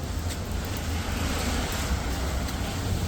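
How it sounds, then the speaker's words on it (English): Steady rain falling on an empty downtown street on a Sunday, a dense, even hiss with a low rumble underneath, continuous and fairly loud with no voices. "It's raining a little bit hard."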